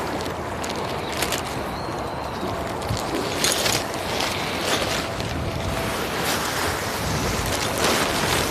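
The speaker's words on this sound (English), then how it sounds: "Alright, wind. Don't be too cruel." Steady wind buffets outdoors during a bicycle tour in South Korea, a broad continuous roar with gusty rises, close and moderately loud throughout.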